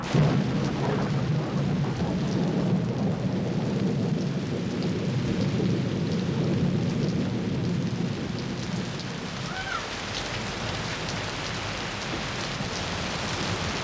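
Steady heavy rain with rumbling thunder fills the whole stretch, loud and continuous, the low rumble fading in the later seconds while the rain hiss carries on alone.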